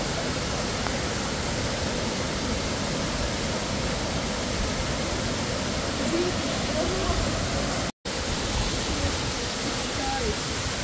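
Roaring cascades at Plitvice Lakes in Croatia, a steady, loud, broadband rush of falling water filling the whole scene without letup, with a brief dropout near the end.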